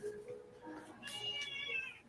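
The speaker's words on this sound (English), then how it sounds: "a cat screaming at me." A cat meows loudly and insistently in a couple of drawn-out, rising cries, close by indoors at a workbench.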